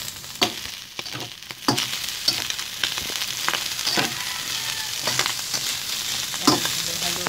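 Browned meat and onions for Bicol Express sizzle in a pan while being stirred, with a steady fry punctuated by repeated spoon scrapes and clacks at irregular intervals, close and with no talking.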